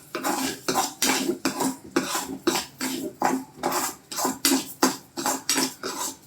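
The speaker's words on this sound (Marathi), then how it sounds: "छान परतून घ्यायचे, ब्राऊन असे होईपर्यंत" Rice roasted in hot ghee in a pot over low heat, stirred in a brisk, regular rhythm of loud metallic scrapes and clinks, close up with no speech.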